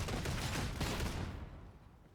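Fire from a braced autogun in Warhammer 40K: Darktide, a dense burst of rapid gunfire that rattles on for over a second and then fades away.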